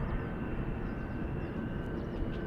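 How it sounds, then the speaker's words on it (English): A low-bypass turbofan jet engine at an airport roars steadily and loudly, a dense unbroken rumble with a faint high whine running through it. "that's the sound of low bypass turbofan"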